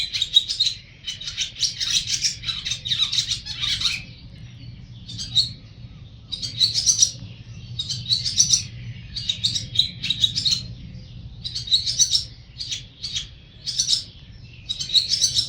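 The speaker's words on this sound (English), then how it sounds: "it genuinely sounded like it was yelling in bird language, like it was chewing somebody out for something" A wild bird in Germany calls loudly and insistently, a string of sharp, scolding chirps and squawks in repeated bursts over a low, steady outdoor hum.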